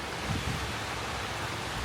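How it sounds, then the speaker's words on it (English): Hot spring water flows steadily at a mountain lodge in Jigokudani, a continuous soft broadband rush without pauses or voices. "The water keeps flowing."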